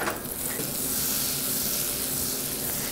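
A tablespoon of butter melts in a warm pan, giving a loud, close, steady hiss and sizzle that swells slightly at the start and then holds evenly.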